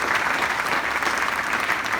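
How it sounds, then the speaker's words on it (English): Sustained applause from an evening audience at a business aviation event, loud and dense throughout with no talking over it. "Round of applause for Rockwell."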